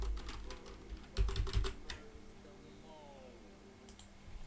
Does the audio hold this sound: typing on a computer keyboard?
yes